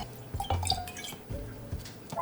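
Dry French-style vermouth pours into a glass already holding Absolut vodka, a short burst of close splashing and trickling liquid lasting about two seconds with a few drip-like accents.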